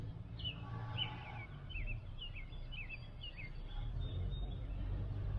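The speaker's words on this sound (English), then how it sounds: "Can you hear all the birds?" Birds sing outdoors on a lawn, a string of short chirps and warbled notes at moderate distance over a steady low rumble of background noise.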